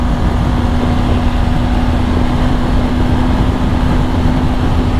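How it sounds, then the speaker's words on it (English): A BMW 1300 GS motorcycle with a boxer engine being ridden on the road, giving a loud, steady, continuous engine drone and rumble mixed with wind noise and no voices. "I also have the sound of the boxer engine"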